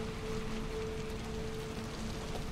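Steady rain falls outdoors in the video game Little Nightmares II, a continuous even hiss of drops on surfaces with a faint low hum beneath, no voices.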